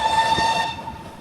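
A steam train on the Severn Valley Railway pulls into Kidderminster station, a steady whistle-like tone ringing over rolling rail noise before easing off.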